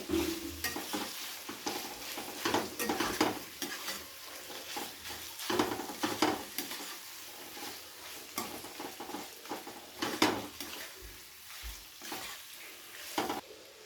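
A spoon repeatedly scrapes and stirs chicken and spices in a pan with no added water, making irregular clattering strokes over a soft, continuous sizzle.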